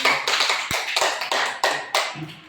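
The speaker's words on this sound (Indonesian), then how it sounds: "kita berikan aplaus dulu" Classroom applause after a student group presentation, a run of sharp, close hand claps and taps in uneven bursts lasting a couple of seconds.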